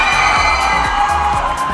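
A dense crowd at a pageant roars with sustained cheering, shrill shouts and whoops, loud and unbroken across the whole stretch.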